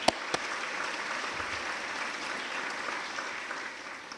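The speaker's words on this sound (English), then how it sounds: "Give yourselves a round of applause" Faculty and staff at a college convocation clap in a large hall, a quiet, even patter of applause heard from a distance, with a couple of sharp knocks near the start.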